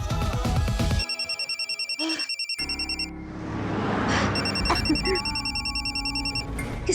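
A telephone rings in repeated electronic bursts, a steady pulsing tone that cuts in and out over background music and room noise, moderately loud and close.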